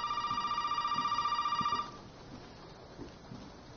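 A telephone rings in Resident Evil 7 VR, a steady trilling electronic ring pulsing evenly for about two seconds before cutting off, leaving faint soft thumps and room tone.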